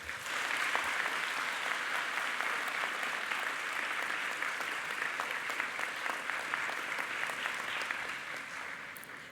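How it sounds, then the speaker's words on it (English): A large audience at a university graduation ceremony for science, medicine and health gives a warm round of applause. Dense, sustained clapping fills the hall for several seconds before tapering off near the end. "show them our appreciation with a warm and"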